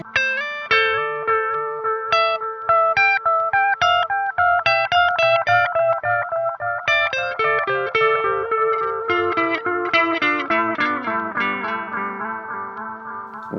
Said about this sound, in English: I've flipped it to my second preset, which is a nice analog delay.